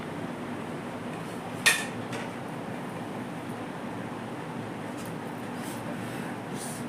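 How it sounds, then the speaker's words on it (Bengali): A lid comes off a pot of chicken dum biryani with one sharp metallic clink, then a couple of faint taps over a steady low background hiss. "এখন আমি ঢাকনাটা খুলে দেখে নেবো কত দূর কি"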